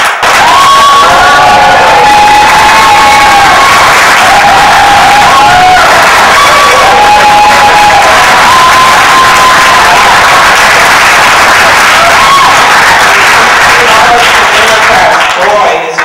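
Loud crowd applause and cheering welcoming Congressional candidate Patrick Hope at an Arlington County political forum, dense sustained clapping with scattered whoops lasting throughout.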